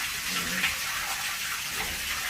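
Water drains from a bladder pressure tank with a steady, close hissing gush that holds unbroken throughout.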